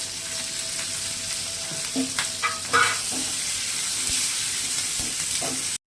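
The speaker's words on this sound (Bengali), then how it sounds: "আর কাঁচা লঙ্কা কুচি হালকা করে ফ্রাই করে নেবো এটা" Chopped green chillies sizzle in a pan with onion, garlic, ginger and tomato, a steady hiss of frying broken by occasional scrapes and clinks of stirring.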